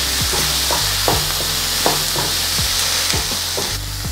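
Onions with turmeric powder are stirred in a frying pan for shark puttu. Close, steady sizzling is punctuated by regular scraping spoon strokes about every half second.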